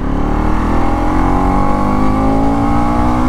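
A 2024 Bajaj Pulsar NS 200 motorcycle revs hard past 7,000 RPM, its engine note climbing steadily in pitch, loud and close, with no talking.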